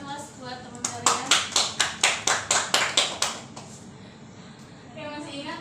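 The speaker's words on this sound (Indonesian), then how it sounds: "silakan beri aplaus buat teman kalian." Classmates applaud a fellow student in a classroom, a burst of about a dozen sharp, evenly spaced claps that fades out, with faint voices before and after.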